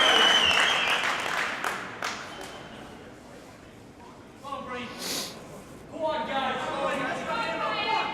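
A crowd cheers and claps during an All-Ireland softball men's doubles final in Meath, with a burst of applause at the start, ball strikes, and commentators talking over rising crowd noise later.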